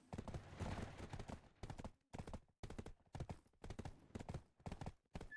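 Rhythmic horse hoof clip-clops in the video game Black Desert, in quick bursts, loud and close, with short pauses between runs of steps.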